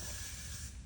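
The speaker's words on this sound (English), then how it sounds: "And then you take hairspray again," A can of hairspray sprayed onto hair, one continuous loud close hiss lasting about a second.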